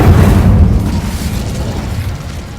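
An Incendio fire spell erupts in Hogwarts Legacy as a loud, booming burst that rolls into a deep, rumbling roar, fading slightly over a couple of seconds with no talk.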